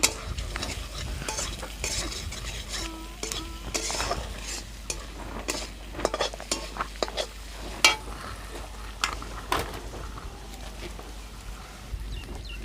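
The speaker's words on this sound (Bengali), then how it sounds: "ভেজে রাখা ডিমটার ভিতরে দিয়ে দেবো দিয়ে একটু নেড়ে চেড়ে দেবো" Fried egg is stirred into a banana flower curry in a pan, giving soft scraping and tapping strokes of a spoon over a faint low sizzle, fairly quiet and irregular.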